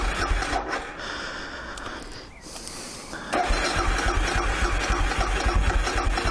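A cold engine cranks repeatedly and struggles to catch after its air cleaner has been cleaned, a steady churning rumble that dips briefly and then returns louder, with no talk over it.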